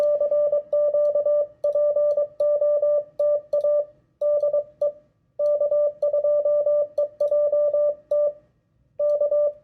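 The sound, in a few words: Morse code CQ call on radio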